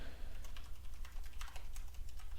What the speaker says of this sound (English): Sorry for my super loud keyboard.